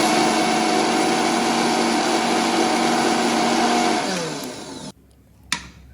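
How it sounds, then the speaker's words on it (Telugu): A mixer grinder whirs loudly and steadily as it grinds roasted ingredients for tomato chutney, then winds down and stops, followed by a brief click. "తర్వాత మనము వేగించుకున్నవి మిక్సీ అయితే పట్టుకోవాలి"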